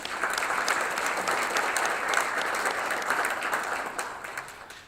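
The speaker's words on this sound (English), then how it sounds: "So let's give them a round of applause too." Sustained applause from an event audience fills the whole stretch, a dense, steady wash of many hands clapping at even loudness with no speech over it.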